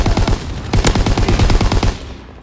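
Rapid automatic gunfire in Call of Duty: WWII, a loud close burst of steady shots for about two seconds that then cuts off into quieter ambience.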